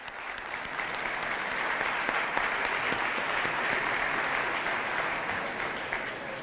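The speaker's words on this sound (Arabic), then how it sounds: "صفقوا" At a poetry recital before a statistics forum audience in Riyadh, a crowd gives dense, continuous applause that swells slightly in the middle and holds steady throughout, with no voices standing out.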